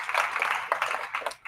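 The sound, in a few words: audience applause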